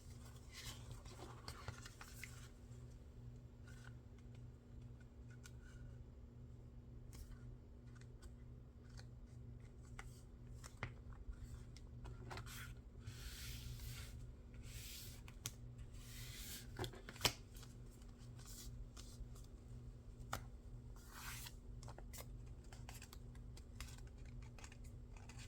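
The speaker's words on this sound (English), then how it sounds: "Let's go ahead and make this fold." Paper being folded and creased for a slimline journal base, with faint scattered crinkles, soft taps and scraping swipes over a steady low hum, close but very quiet and with no talking.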